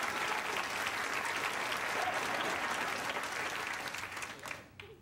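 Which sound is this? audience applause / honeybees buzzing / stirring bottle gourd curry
audience applause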